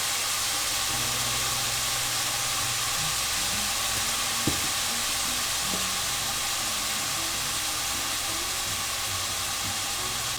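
Cloves sizzling in hot oil in a pot for stew chicken, a loud, steady, close hiss and crackle that runs the whole time with a couple of faint knocks, and no one speaks.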